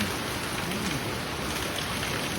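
Dense, constant hiss of rain falling during wet weather, steady and even with no breaks, with no voices over it.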